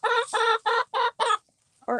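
Hens in a backyard chicken run, five close, loud clucks in quick rhythmic succession, a short pause, then another cluck starting, with no talking.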